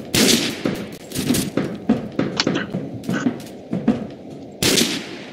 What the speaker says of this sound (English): What are you shooting at, Andrew?